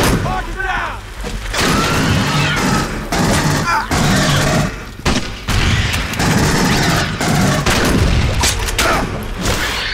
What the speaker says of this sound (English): I got a better shotgun now